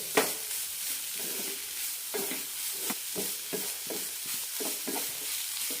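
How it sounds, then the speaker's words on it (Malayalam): Radish and potato curry is stirred and sautéed in a pan. A continuous sizzle runs under repeated soft scraping strokes of the spatula, close and steady, with no talking. "രണ്ട് മിനിറ്റ് നന്നായി വഴറ്റി കൊടുക്കാം"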